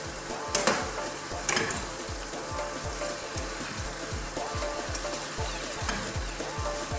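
Pancit bihon, Filipino chicken rice noodles, sizzles steadily in a hot pan while being stirred, with a constant frying hiss and regular scraping clicks of the utensil, close and alone with no talking.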